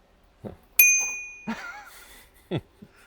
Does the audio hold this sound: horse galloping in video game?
no